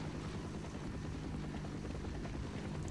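A helicopter in the video game Half-Life gives off a steady, dense rotor roar and whine that holds at constant loudness without a break.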